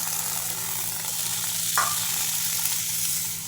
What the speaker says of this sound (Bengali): সজনা ডাঁটা টুকরো করে তেলে ভেজে নিলাম, আর এখন মশলাটাও দিয়ে দেবো